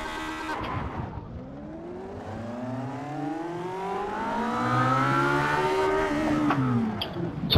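Race car engine in a Le Mans racing video game pulling hard off the start in first gear, a loud continuous rising rev that climbs steadily in pitch for several seconds before easing, with no talk over it.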